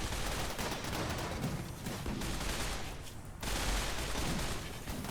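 A micro missile weapon fires in the RimWorld video game, a dense, continuous barrage of crackling blasts that roars steadily, dips briefly partway through, then surges back at full strength.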